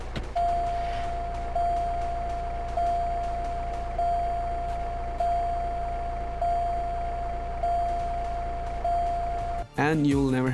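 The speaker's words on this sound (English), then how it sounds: "with the sound signal mod, when your tire is flat, you'll get a sound signal" A flat-tire warning signal from a sound signal mod for GTA San Andreas: a steady tone beeping at a regular pace of about one per second, over a constant low engine drone, then a brief warbling sound at the end.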